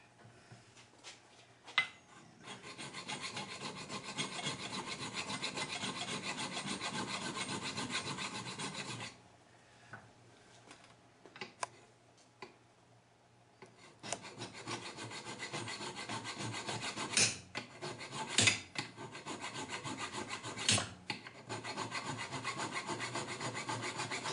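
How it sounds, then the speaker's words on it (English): A hand file rasps the rounded edges of a metal socket during strut service on a 2000 Mitsubishi Mirage, with steady scraping strokes in two long runs broken by a pause and a few sharp knocks. "so we'll just take a file."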